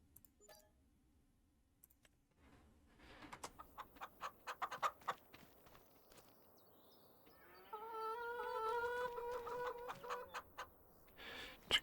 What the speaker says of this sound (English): Chickens are hanging out.